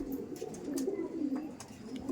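Large Rampuri-eyed pigeons cooing close by in a loft, a soft continuous run of low throaty coos with faint chirps above.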